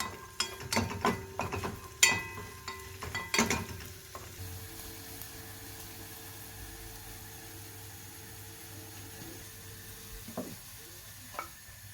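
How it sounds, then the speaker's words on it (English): Garlic and ginger frying in a pan for homemade Schezwan sauce, with loud sizzling and stirring scrapes over the first four seconds, then a quieter steady sizzle with a couple of soft clinks near the end. "mix until the garlic and ginger become golden brown in color"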